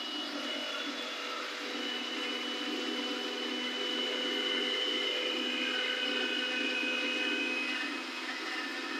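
A kitchen mixer grinder runs continuously while grinding homemade spices, producing a steady, moderately loud motor whine and whirr that holds for several seconds with no breaks.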